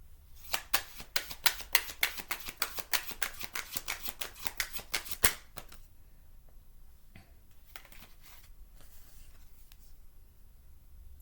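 Tarot cards riffled and shuffled in a rapid run of crisp, close slaps and flutters for about five seconds, then a quieter stretch of soft card handling and faint rustles as cards are drawn.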